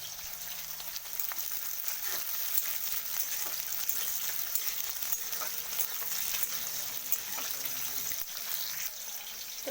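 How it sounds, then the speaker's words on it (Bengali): Onion and chopped green chilies sizzle in a pan, a steady close frying crackle with occasional small stirring clicks throughout and no speech. "পেঁয়াজটা আমার লাল লাল করে ভাজা হয়ে গেছে।"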